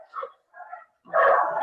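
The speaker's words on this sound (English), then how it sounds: "Oh, our dog." A pet dog barks indoors in the background of an online webinar: two short soft barks followed by a longer, louder bark, close by and alone with no talk over it.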